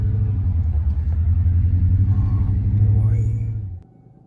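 A BMW E65 engine misfiring badly on brand new spark plugs, heard from inside the car on a drive as a loud, uneven low rumble that holds steady for nearly four seconds, then drops off abruptly.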